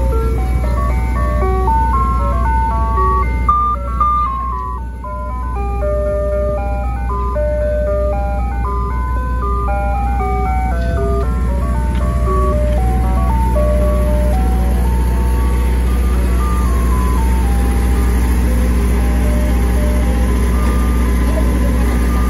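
A parked ice cream truck plays its jingle melody nearby over a steady idling engine drone, loud and continuous, with occasional voices in the background.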